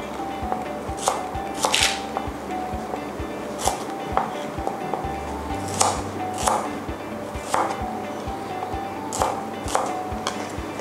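Steady rhythmic knife chops on a cutting board as shallots are sliced into thickish pieces, close and crisp, with occasional irregular pauses.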